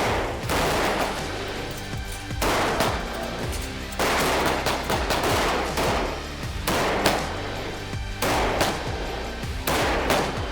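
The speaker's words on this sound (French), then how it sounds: "Tire de 3 cartouches côté fort, 3 cartouches côté faible." Rapid bursts of pistol shots from a police academy shooting drill, fired in quick volleys of several rounds with brief pauses between groups, loud and close with no talking.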